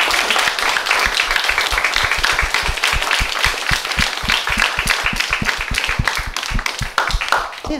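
An audience in a theater applauds after an artist's conversation talk, a dense steady patter of many hands clapping close and loud throughout, with a few sharp individual claps standing out.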